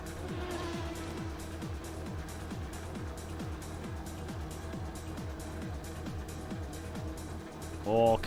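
A race car engine in the Assetto Corsa racing game revs up through gears in a repeating rise-and-drop pattern, quiet in the background beneath a person talking.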